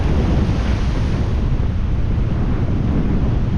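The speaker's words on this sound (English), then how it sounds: "Still a bit windy." Strong cyclone wind with rain roars and buffets the microphone in a constant, loud rush with no pauses.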